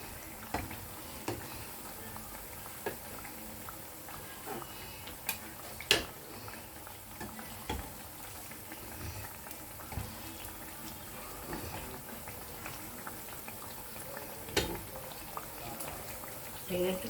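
Slices of bread deep-fry in oil for a sweet dessert, making a faint, low bubbling with scattered small pops and clicks throughout.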